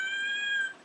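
A house cat meows once in the background: a single sustained, tonal call that holds steady, then fades out near the end, with no talking over it.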